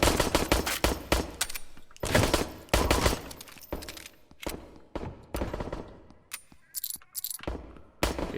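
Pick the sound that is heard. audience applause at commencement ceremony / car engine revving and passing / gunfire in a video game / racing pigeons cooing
gunfire in a video game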